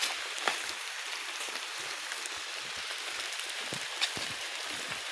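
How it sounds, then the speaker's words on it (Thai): Steady rain falls in a forest, a dense even hiss of drops with occasional louder splashes and taps on nearby leaves or surfaces, with no talking. "ฝนตกมาแล้ว"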